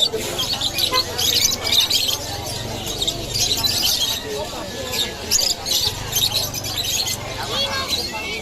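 Busy chirping and tweeting from several birds fills the scene, steady and fairly close, with a low murmur of voices underneath at times.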